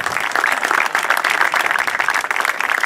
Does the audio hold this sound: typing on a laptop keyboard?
no